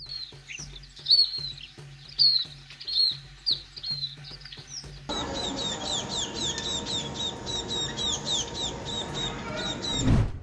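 High, thin scaly-breasted munia calls chirp repeatedly in an aviary, first scattered over faint tapping noises, then in a steady stream over a dense background hiss.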